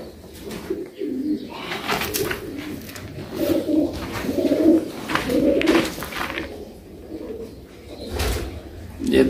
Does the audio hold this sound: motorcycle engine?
no